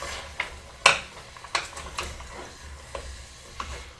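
Browning meat and onions stirred in a pan for a stew, giving scattered light scrapes and clicks of a utensil at irregular intervals over a quiet, low sizzle, with no voices.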